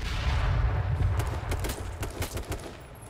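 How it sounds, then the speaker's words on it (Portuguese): Rapid, crackling gunfire erupts in a session of the battle-royale game H1Z1, with a dense, rumbling volley followed by a string of sharp separate shots that gradually thin out. "tô tomando tiro de sniper"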